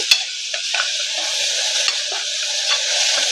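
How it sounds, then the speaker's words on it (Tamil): Ginger and garlic sauté with onions in a pan for mutton bone soup, giving a loud, steady sizzle with a few sharp scrapes and clicks from stirring. "இப்போது இஞ்சி பூண்டு போட்டுக்கிறோம். சூப்புக்கு தேவையான இஞ்சி பூண்டு போட்டுக்கிறோம்."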